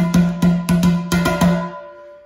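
A cooking pot played by hand like a djembe, beating out the break rhythm: about six sharp resonant strikes in uneven groups with a ringing metallic tone that lingers and fades, close and loud with no talking.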